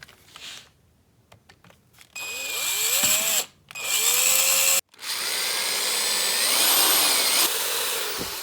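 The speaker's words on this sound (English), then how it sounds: "let me go ahead and get the drill out." A power drill drilling out the pins of a broken ESL steering column on a Mercedes-Benz W204 C300, with light clicks of handling first, then loud whining bursts with brief stops and pitch changes as the motor loads.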